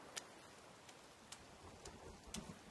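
Rain pattering steadily in the survival video game The Forest, a soft continuous hiss broken by a few brief sharper ticks of drops, fairly faint and heard alone.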